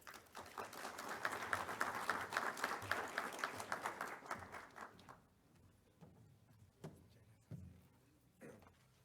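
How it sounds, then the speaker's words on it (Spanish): An audience claps together for about five seconds at a conference on asphalt and road development, then the applause fades into scattered claps and thuds in a quiet room. "Un aplauso, por favor."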